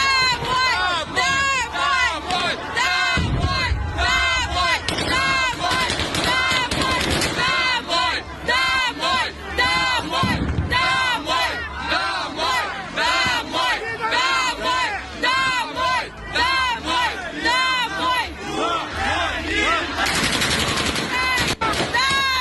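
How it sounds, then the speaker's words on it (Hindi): Crowd of protesting civilians shouting and screaming as Russian soldiers fire on them, rapid repeated gunshots and bursts crackling continuously through loud yelling and panicked voices. "सुनिए जरा कैसे फायरिंग हुई है।"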